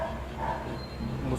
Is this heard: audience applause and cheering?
no